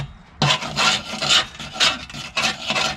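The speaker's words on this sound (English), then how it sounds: "Scraper." A metal scraper rasps debris off the underside of a Kubota BX1870 mower deck in five or six close, loud, rhythmic strokes, each a harsh grinding scrape.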